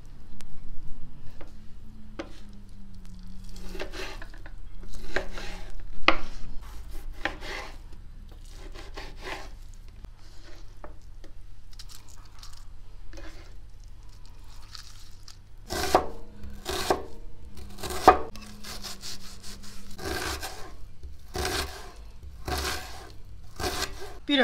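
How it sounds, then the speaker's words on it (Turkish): A knife chops tomatoes on a board, first in sparse, soft cuts over a low background hum, then in a closer, louder burst of regular chops toward the end. "Şimdi domateslerimi doğruyorum."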